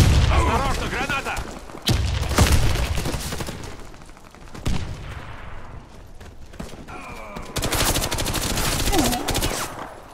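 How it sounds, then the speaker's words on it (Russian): Grenade explosions and heavy gunfire in the Warface video game, with sharp booms and rapid bursts of shots scattered across the scene, loud and close, mixed with voices. "Кидаю гранату! Осторожно, граната!"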